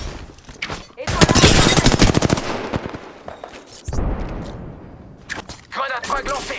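Rifle gunfire in a first-person shooter video game, loud dense bursts of rapid shots in two stretches with game voice lines and talk around them.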